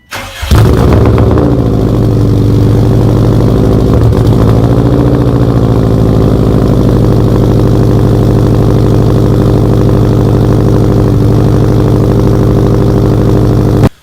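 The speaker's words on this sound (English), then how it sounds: "the time has finally arrived where I can finally start up the Subi and see how this thing sounds" Subaru WRX wagon fitted with a Tomei exhaust starts with a short crank, then settles into a loud, steady, close idle with a deep burbling rumble that runs unbroken until it cuts off at the end.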